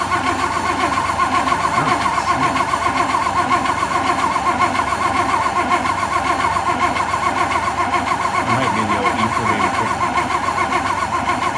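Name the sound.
1956 Oldsmobile engine cranking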